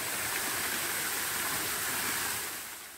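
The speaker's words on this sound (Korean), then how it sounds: "물소리가 점점 커지는데요. 이곳은 조곡 폭포입니다." A roaring, continuous rush of water from Jogok waterfall at Mungyeong Saejae, Korea, a three-tiered fall about 45 m high, loud and steady throughout and easing slightly at the end.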